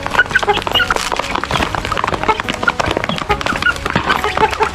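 Chickens clucking at a rural Thai family home, steady scattered clucks and calls close by amid busy outdoor background noise.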